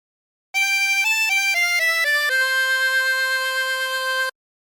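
A La Cucaracha phrase on a 20-hole tremolo harmonica: a quick run of short reedy notes settling into one long held, wavering chord-like tone, close and clean with no voice.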